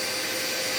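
A Sears brand vacuum cleaner running, a steady loud broadband whooshing roar with no breaks, close up.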